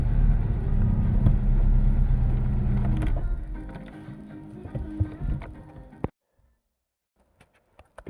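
A 2008 Chery Amulet, back in use after a year standing, has its engine running with a loud low rumble that fades and then cuts off abruptly, followed by near silence broken by a few faint clicks.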